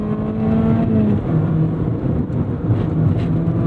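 A loud, steady engine drone with throaty exhaust rumble from a track-prepped ND3 Mazda Miata Club, pitch shifting slightly as the car holds speed, close and continuous.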